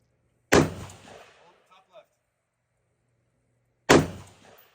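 Two sharp, loud gunshots ring out a few seconds apart at an outdoor gun range, each with a short decaying tail, with faint knocks in between.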